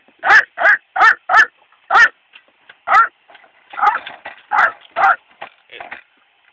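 A dog barks in a quick run of five sharp barks, then a few more irregular barks and softer whines, close by.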